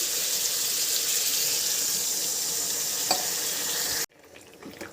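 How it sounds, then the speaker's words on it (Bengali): A loud, steady hiss and sizzle as water is poured into a hot pan of fried ridge gourd and pea lentils seasoned with salt, turmeric and green chili, cutting off sharply to a quieter bubbling. "চল এবার জল দিয়ে দেব।"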